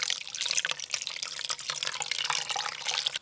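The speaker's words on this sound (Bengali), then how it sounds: "এবার দিয়ে দেবো জল" Water is poured close by into a lassi mixture, making a continuous splashing stream with a bright, bubbling texture that lasts the whole time.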